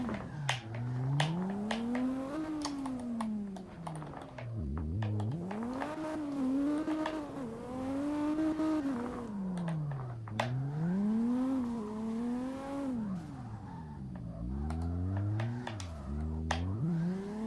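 A drifting car in the CarX Drift Racing video game slides along mountain roads, its engine rising and falling in repeated revving sweeps with tire squeal, continuous and fairly loud throughout.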